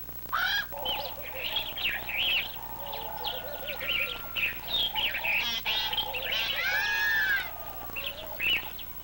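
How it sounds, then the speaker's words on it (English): Bird calls in a children's television program, a series of bright honking, goose-like chirps and warbling cries repeating steadily and fairly loud throughout. "Un pájaro. A bird."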